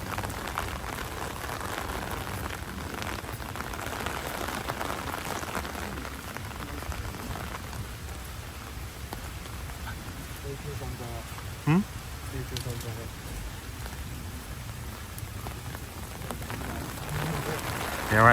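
Heavy rain pours steadily at a Walt Disney World resort, a dense continuous hiss of drops on surfaces and foliage heard up close outdoors, with a brief louder knock partway through.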